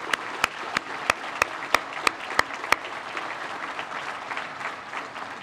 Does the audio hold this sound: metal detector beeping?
no